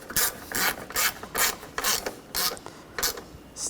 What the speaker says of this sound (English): And take these bolts, get those started. And we can tighten those down.